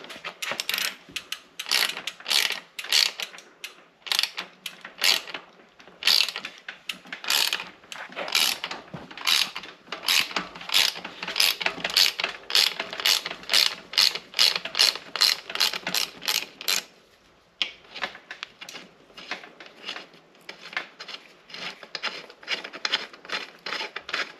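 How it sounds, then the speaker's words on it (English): Wrench ratcheting while a gear part comes off a GT Aggressor Pro bike during a 1X conversion: dense, rapid metallic clicking in fast bursts, close and loud, with a short pause before the clicks resume, no voices. "And I need a wrench for this size."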